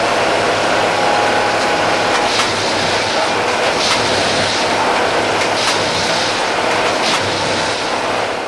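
A track tamping machine compacts the stone ballast under railway sleepers at about 35 Hz, a loud, continuous dense rumble and rattle with a steady low hum and periodic sharper bursts of clatter, with no voices.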